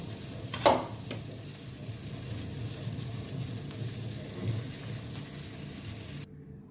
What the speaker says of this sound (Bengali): কাঁকড়াতে হলুদ লবণ মাখিয়ে দিয়েছি, এখন আমি কাঁকড়াগুলো ভেজে নেব।